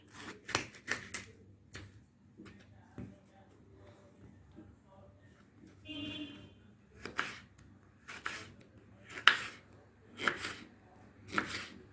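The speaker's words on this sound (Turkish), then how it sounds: "Evet bir tane kapya biberimiz. Onu da küçük küçük doğruyoruz." A knife chops a red bell pepper into small pieces on a board, giving irregular sharp taps, some in quick clusters, close and fairly quiet with lulls between strokes.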